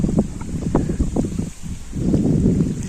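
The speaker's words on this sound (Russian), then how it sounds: "Ну, говорю, ветер ужасный, поэтому как-то так." Strong gusty wind buffets the microphone beside a river during a fishing trip, coming in rough, uneven bursts with a low rumble and rustling.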